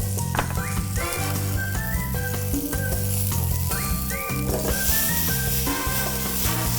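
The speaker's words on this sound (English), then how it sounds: "You see how the peppers are caramelizing and how the garlic is browning without burning?" Peppers and garlic frying in a pan, a loud steady sizzle running beneath a repeating low hum and tonal background music.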